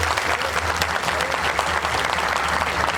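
Crowd applause at a temple ceremony for Shri Kalbhairav and Bhavani Mata idols, dense sustained clapping from a large gathering, loud and continuous with some crowd noise mixed in.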